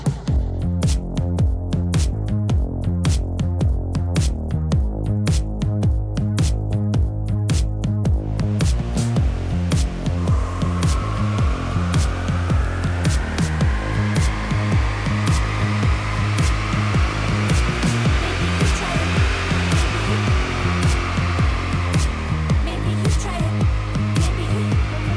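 Turbocharged Suzuki Cappuccino engine roaring steadily on a dyno, its dense rhythmic pulsing climbing in revs; after a few seconds a rising turbo whine joins the loud, continuous engine drone, with no talking.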